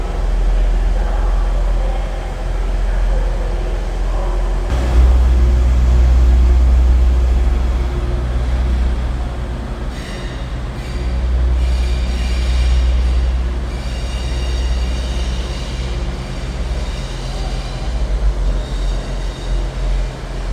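Train passing through York Station, a loud, continuous low rumble of rolling wheels and engine close by, steady throughout with faint high squeals riding on top.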